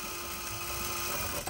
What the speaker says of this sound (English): Fold the edges and sew it on the mask, either on the outside or the inside